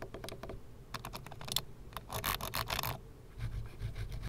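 A Logitech M110 silent mouse gives soft, muted clicks, quick bursts of light tapping in a quiet room, close up and faint.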